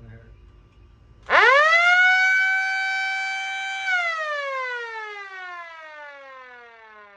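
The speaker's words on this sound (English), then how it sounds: "Okay, fire truck horn." A fire truck horn siren bursts in loud and close after a quiet moment, holds a steady howling wail for a few seconds, then winds down slowly in pitch as it fades.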